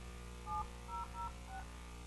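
Four short telephone keypad dialing tones on a call-in line during a city commission meeting, spaced unevenly and faint over a steady electrical hum.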